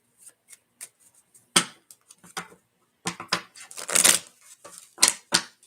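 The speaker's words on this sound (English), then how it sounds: "Sounds like you're shuffling" Tarot deck being shuffled by hand up close, irregular bursts of riffling and slapping card sounds with short quiet gaps between them.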